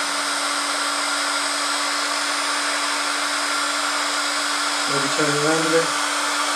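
A heat gun blows a steady, loud rushing stream of hot air over heat-shrink tubing on a wire joint during a GPS kit build, and a voice speaks briefly near the end.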